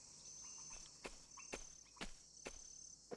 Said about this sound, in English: No music, just the sound of crickets.